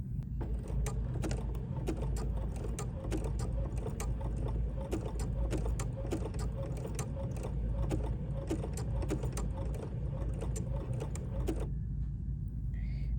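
A Bernina B 790 PRO sewing machine stitching a button onto fabric, giving a rapid, even run of close mechanical clicks that stops abruptly just before the end.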